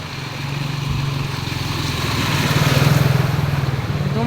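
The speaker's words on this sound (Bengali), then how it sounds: "দেখতে পাচ্ছেন একটা বাইক আসছে," A motorbike engine hums steadily on a flooded road, its drone swelling slightly as the bike draws nearer, with no talk over it.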